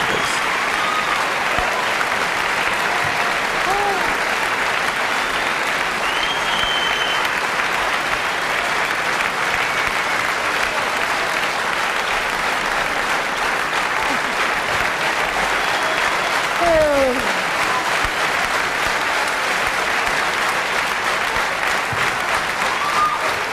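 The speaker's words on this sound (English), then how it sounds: "Those claps were like a parade." A concert audience applauds at a Montreux jazz show: dense, loud, sustained clapping that fills the whole stretch without letting up.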